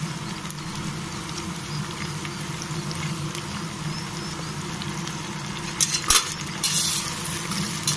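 Oil with shahi jeera, bay leaf, onion, green chilli and mint being stirred in a pressure cooker on the stove for pulao: a steady low sizzling patter, with a few sharp spoon-on-metal clinks near the end.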